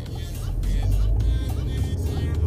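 A manual-transmission car pulls away from a stop, its engine a steady low rumble that builds slightly as it moves off, heard from inside the cabin over a constant road and engine hum.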